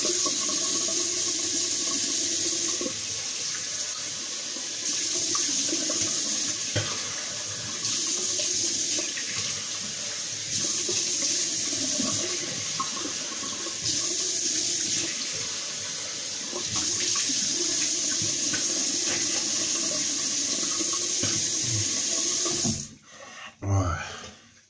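A bathroom tap runs steadily as someone rinses their face after shaving, water splashing continuously at close range for most of the stretch before cutting off abruptly near the end.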